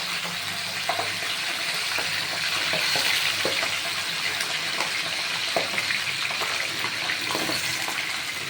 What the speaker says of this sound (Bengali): তেল গরম হয়ে গেছে এবার আমি মাছ একটা করে দিয়ে দেবো